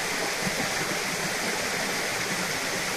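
Fast-flowing stream rushing near the Tibu Giong waterfall, a steady broadband roar of water that holds evenly loud and close throughout with no breaks.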